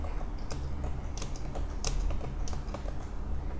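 HTML text is typed on a computer keyboard in a quick, steady run of close, crisp keystrokes, a few of them sharper and louder, with no talking.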